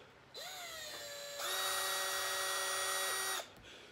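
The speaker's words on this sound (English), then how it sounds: "today we are doing the corn challenge with the drill" A power drill spinning a corn cob whines up to speed, runs steadily, then climbs to a higher, louder pitch for two seconds before cutting off, heard close up.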